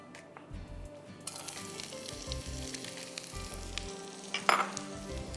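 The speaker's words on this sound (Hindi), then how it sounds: "यहाँ भी तेल गरम हो चुका है, इसमें हम डालते हैं प्याज" Onions frying in hot oil in a home kitchen pan, with a steady close sizzle that crackles throughout and brief louder bursts of stirring, no talking.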